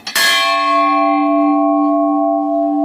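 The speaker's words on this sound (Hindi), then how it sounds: "अंदर जाकर हम लोग जोर जोर की घंटियां बजाने लग पड़े" A temple bell struck loudly once: a sharp metallic clang that rings on with a sustained, shimmering tone, close and prominent.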